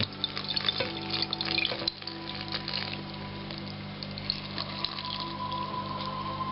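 Water pours steadily into a container, a continuous splashing rush close by with faint clatter in the background.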